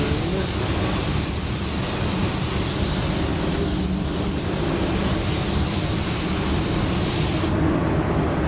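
Spray gun with a Porphis PRD-717 split tip nozzle laying down a control coat, a steady, loud broadband hiss running continuously and alone, cutting off abruptly near the end.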